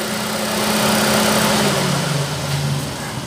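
A 2009 Chevrolet Prisma 1.4 engine running with exhaust faults, a loud, steady idling drone with a broad noisy roar and a low tone, close up with no talk.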